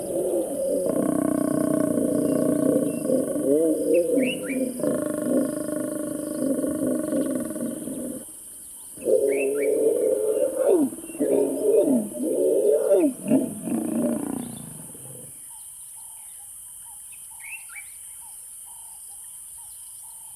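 Lions roar and growl deeply during mating on the savanna in two long, loud bouts separated by a short pause, followed by quieter ambience with insects and a few faint bird calls.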